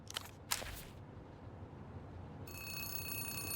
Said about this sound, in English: As you turn away, a phone begins to ring.